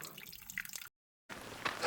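Water drips and trickles from a squeezed backpacking water filter on a mountain trail, soft close patters broken by a brief gap before a fuller splashing stream returns.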